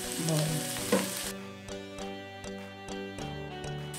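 Crushed garlic cloves fry in hot oil in a pan for chicken liver masala, a close continuous sizzle with light stirring clinks over a steady kitchen hum.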